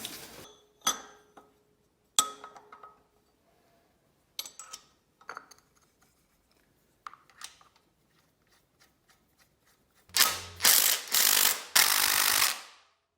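Metal clinks, taps and short ratcheting clicks from work fitting timing gears onto the cylinder heads of a Subaru EJ25 engine, scattered sharp knocks with quiet gaps, then a louder burst of rapid ratchet or tool noise near the end.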